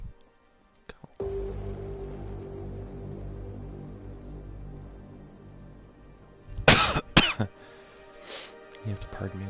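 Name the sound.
coughing and sniffling of a sick streamer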